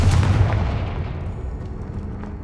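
A single deep, booming blast from the Confringo fire spell in Hogwarts Legacy erupts loudly at the start, then rumbles and decays over two seconds.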